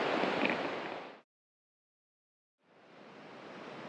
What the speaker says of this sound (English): Gonna flip it around so the mic is pointed at the waves now.